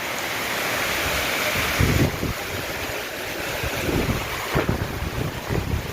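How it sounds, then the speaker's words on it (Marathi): Strong wind gusts buffet the microphone in uneven bursts over a constant rushing wash of a rainstorm, loud and close. "वार सुटले पावसाचं"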